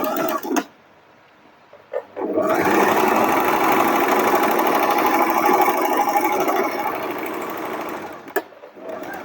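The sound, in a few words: sewing machine sewing a French seam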